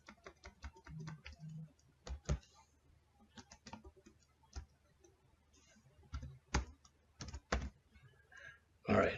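Keystrokes on a computer keyboard come in short irregular bursts with pauses between them. The sound is close and fairly quiet, and no one speaks.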